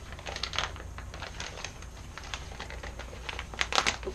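A rubber V-belt for a band saw pulled out of a plastic Ziploc bag, with close crinkling and rustling of the plastic in quick irregular bursts that grow louder near the end, with no talk.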